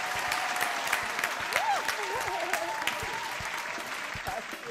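A studio audience claps steadily at a talk show, the applause continuous and moderately loud, with voices and a few shouts mixed in.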